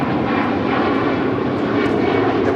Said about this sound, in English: This is the MGM Mirage Embraer 190 headed back to Vegas